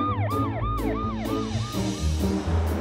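A cartoon fire truck siren repeats in rapid, bouncing up-and-down wails, loud and close, over low rumbling music with no talking.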